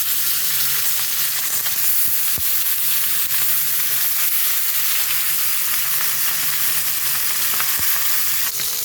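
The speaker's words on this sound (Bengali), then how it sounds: "মাছগুলো ভাজা হয়ে গেছে" Small puti fish frying in hot oil in a pan, a dense, loud, continuous sizzling hiss with occasional faint clicks of a utensil, close by and without talk.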